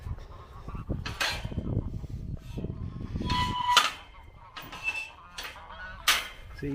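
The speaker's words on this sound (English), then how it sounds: "It's either duck porn or duck fight." Ducks squabble and quack beside a river near Dutton locks and viaduct, a string of loud, harsh honking calls in bursts over about seven seconds against outdoor background noise.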